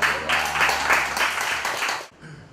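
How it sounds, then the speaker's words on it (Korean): Audience applause fills a lecture hall during a coaching certification class, a dense steady clapping that lasts about two seconds before dropping off abruptly, leaving a faint room tail. "박수 부탁드립니다"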